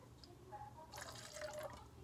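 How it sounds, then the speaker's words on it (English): Water trickles and splashes into a cup as it is filled about three-quarters full for a science project, a short quiet pour with a faint voice in the background. "fill the first cup 3/4 full of water"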